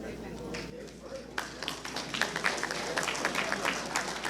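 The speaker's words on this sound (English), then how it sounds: "then we'll give them applause collectively" Audience applause for hall of fame inductees at a Fitch athletic hall of fame ceremony: a moderate crowd claps steadily from about a second and a half on, dense and sustained at middle distance.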